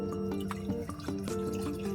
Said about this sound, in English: I'm using 1 litre of water for my rice